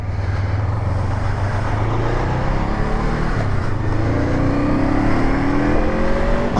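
Honda Scrambler SCL500 motorcycle pulling hard under acceleration through a riding course, a loud continuous engine note with rising harmonics sweeping upward as revs climb, close and steady with no talk.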